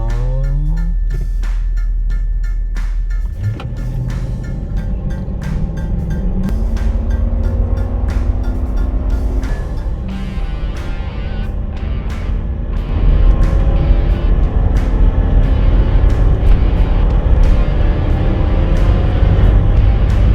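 A Lexus LX 470 Land Cruiser accelerates hard from a standstill, its engine note rising through gear changes with steady loud road and wind rumble building over about twenty seconds.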